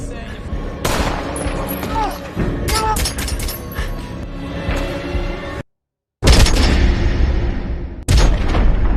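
Heavy gunfire from a scene in the crime film Wrath of Man, dense overlapping bursts and booming shots mixed with shouting, a brief silent gap, then more loud firing.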